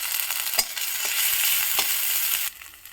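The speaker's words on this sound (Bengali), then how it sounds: "আদা দেবো আদা গ্রেট করা আছে তা দেবো" Grated ginger sizzles in hot oil with nigella seeds in a kadai, a close steady hiss broken by a few spoon scrapes, dropping quieter near the end.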